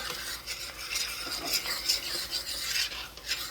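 Sausage gravy being stirred in a pan over low heat, a continuous scraping and soft sizzling with light clinks of utensil against metal, close and steady throughout.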